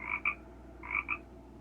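A frog croaking sound effect, two quick paired croaks separated by a short pause, fairly faint and isolated against near-silence.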